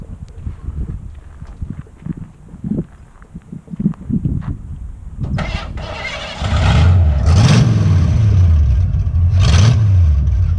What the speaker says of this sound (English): Let me pull forward a little bit so we got some room to go back.